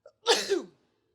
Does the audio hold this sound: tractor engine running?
no